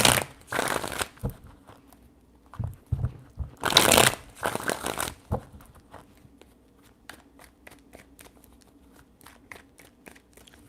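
Tarot cards are shuffled by hand in several close, crisp riffling bursts, followed by scattered light card taps and handling sounds.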